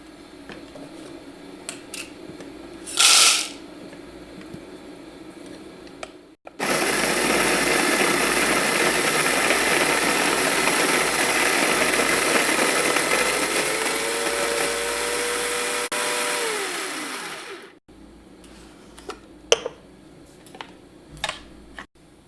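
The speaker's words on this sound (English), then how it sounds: "Okay, first we'll grind the coffee." Whole bean coffee ground in an electric grinder for a French press, a loud, steady whirring grind of about eleven seconds that sinks slightly in pitch before stopping, framed by quieter handling clicks and taps.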